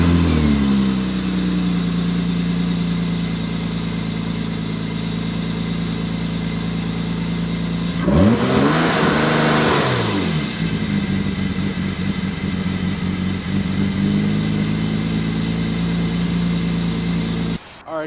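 BMW E36 drift car engine after valve cover gasket and spark plug replacement, idling steadily and loudly, then revving up and falling back to a droning idle once midway through.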